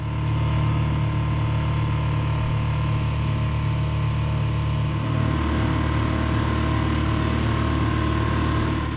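A dinghy's larger outboard petrol engine runs steadily on the water near Plymouth, a loud continuous motor drone with a slight shift in pitch partway through, heard alone.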